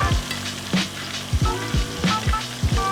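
A coffee-rubbed steak sears in a hot pan right after being flipped, a loud continuous sizzle broken by a few thumps and scrapes of the pan, close and with no talking.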